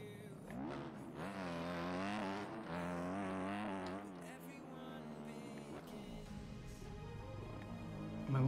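Racing motorbike engine in a video game qualifying session, revving and shifting through gears with rising and falling whine, loud and continuous, with a voice talking over parts.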